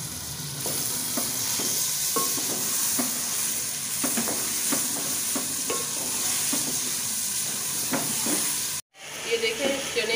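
Steady sizzling and hissing of boiled chickpeas frying with spices in a pan, with repeated stirring scrapes throughout, briefly cutting out near the end.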